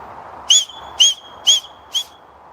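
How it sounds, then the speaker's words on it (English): Whistle blown to call an old deaf and blind dog outdoors, four short shrill peeps in an even rhythm, about half a second apart, the last one slightly fainter, with no talking. "She can't even hear the whistle."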